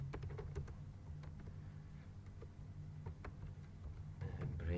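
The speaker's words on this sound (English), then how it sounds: "I'm going to type block number." Computer keyboard typing close by: quiet, irregular clicks and taps in quick runs with short pauses, faint over a low steady hum.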